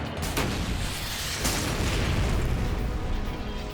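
RPG-7 rocket launched at a target vehicle about 100 yards away, a loud sustained blast and roar with a sharp crack near the start and another burst partway through, rumbling continuously to the end.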